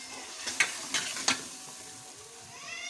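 A spoon stirs tomato paste into an achari chicken karahi in a pan, giving three sharp scraping strokes over a steady close sizzle, then quieter bubbling.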